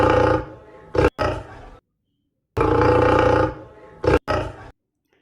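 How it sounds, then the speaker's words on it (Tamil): Lion roaring: two long, loud, deep roars close by, each ending in short grunting huffs, separated by a brief silence. "சிங்கம்."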